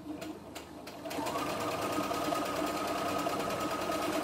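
A CNY E960 multifunction embroidery machine runs an automatic stitch, starting up after a few light clicks into a steady, fast mechanical whirring hum that continues evenly and close by.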